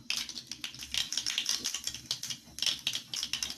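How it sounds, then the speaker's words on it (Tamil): Mustard seeds splutter in hot oil, a close, quick crackling of small pops and sputters in irregular bursts with no talking over them. "கடுகு நல்லா பொரிஞ்சிருச்சு."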